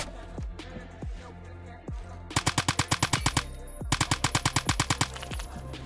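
G3A3 rifle gunfire in the shooter game Phantom Forces: a few single shots first, then two rapid automatic bursts of about a dozen sharp cracks each, loud and close.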